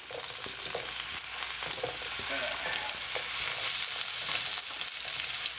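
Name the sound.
onions and carrots frying in meat juice on the hob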